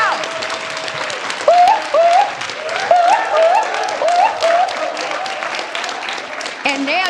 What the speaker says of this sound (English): as you stand, I want you to applaud, applaud, applaud